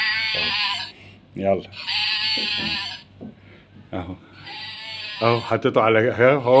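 A young male sheep bought for the Eid holiday bleats several times at close range, its cries mixed in with steady talking from people nearby.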